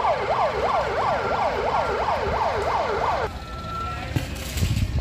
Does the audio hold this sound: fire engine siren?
yes